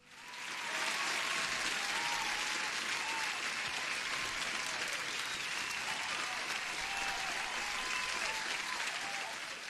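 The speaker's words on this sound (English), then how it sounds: "here's an applause for everyone who is here" A recorded applause effect swells in and sustains: dense, even clapping from a large crowd that stays steady and full before easing slightly at the end, with no voices over it.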